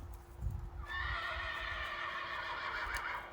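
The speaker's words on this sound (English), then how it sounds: "and that was a horse." A horse neighs in a long, wavering whinny lasting a couple of seconds, fairly close, over low rumbling background noise.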